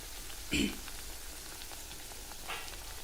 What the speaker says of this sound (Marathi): आता आपण वांगी तळून घेऊया